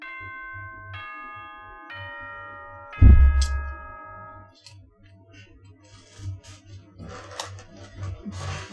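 The announcement chime from the video game Danganronpa 2 plays as a descending sequence of clear bell tones, each held and ringing, followed by a thump and low background music.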